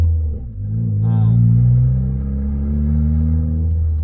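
A loud turbocharged Toyota Corolla with a straight downpipe and no exhaust rumbles steadily at close range, with a brief rising turbo whine near the start and a low droning exhaust tone throughout.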